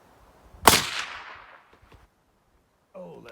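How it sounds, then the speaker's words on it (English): A single loud, sharp gunshot from an MCK 300 Blackout rifle with an 8-inch barrel and red dot sight at an outdoor target range, with a long ringing decay, then quiet and a brief voice. "I'm gonna shoot at the bottom left."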